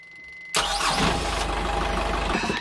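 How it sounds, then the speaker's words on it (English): A boat's diesel engine cranks briefly after a short pause, then catches and settles into a loud, steady rumbling idle close by. "Just hear the lift pump cranking it."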